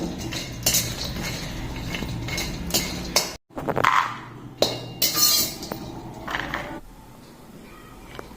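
Cardamom pods dry-roasted in a pan without oil, stirred with a utensil that clinks and scrapes against the metal in a busy, irregular rhythm, with a brief pause midway.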